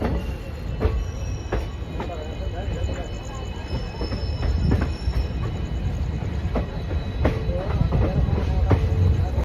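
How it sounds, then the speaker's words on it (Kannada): The 16548 Yesvantpur Express, hauled by a WDP 4B locomotive, rumbles loudly and continuously from inside the coach through a forested stretch at night, with rhythmic wheel clicks, sharp rail squeals and rattling carriage noise. "ಟ್ರೈನ್ ಒಂಥರ ಕಾಡಿನ ಮಧ್ಯದಲ್ಲಿ ಹೋಗುತ್ತೆ"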